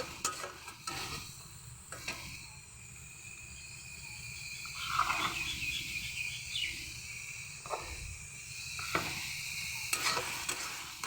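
Spice masala frying in oil in a pan, a faint sizzle under repeated stirring scrapes and clinks of a utensil against the pot, with quiet background hiss and no talking.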